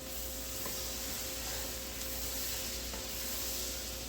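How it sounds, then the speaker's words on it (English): Onions sauteing in melted butter in a pan for a Cajun creamy chicken, giving a steady, even sizzle and hiss that runs throughout without talk. "We're gonna drop the onions in here. And we're gonna saute that, let it sweat."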